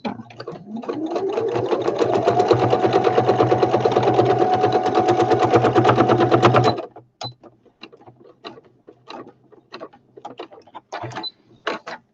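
Sewing machine stitching the back panel onto a handmade fabric flower basket, a steady close mechanical whir running for about seven seconds, then stopping and leaving scattered small clicks and handling sounds.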